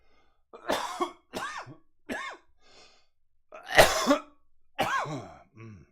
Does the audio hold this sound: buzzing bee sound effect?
no